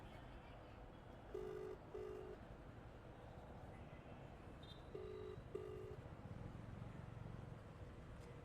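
Faint ringback tones of an outgoing phone call on speakerphone, two pairs of short beeps spaced a few seconds apart over low room noise.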